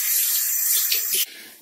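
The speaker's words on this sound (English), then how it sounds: "So I'm just gonna dip this one into the water." A face cloth dipped into a basin of water gives a loud, bright rush of splashing and trickling that cuts off suddenly after about a second, leaving faint room noise.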